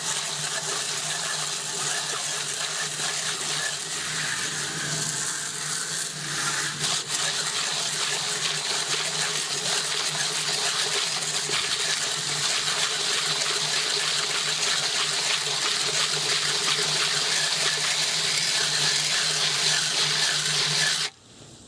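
A hose sprays water steadily onto a DE pool filter during cleaning, producing a loud, continuous hissing gush that holds for about twenty seconds before cutting off abruptly.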